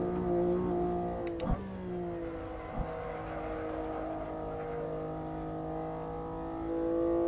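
Racing car engine in the Assetto Corsa video game at Brands Hatch holds a loud steady drone at high revs with shifting harmonics, a brief mechanical clunk near the start, then a faint rise in power toward the end.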